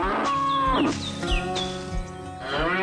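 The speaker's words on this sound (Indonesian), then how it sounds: "seekor sapi abu-abu dengan lonceng sedang menikmati hari yang cerah" A grey cow wearing a bell on a farm moos several times in close succession, with loud, drawn-out lowing calls that rise and fall.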